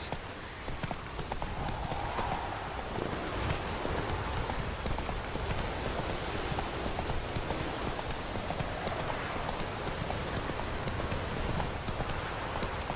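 Horse hooves clip-clop in the video game The Witcher 3, a steady trotting patter heard close and continuous over a dense hiss like rain.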